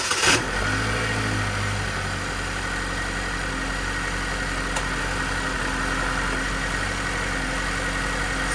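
A car engine held at a steady 2,000 RPM during a mass airflow sensor check, giving a continuous, even mechanical hum throughout with a brief transient at the start and no talking.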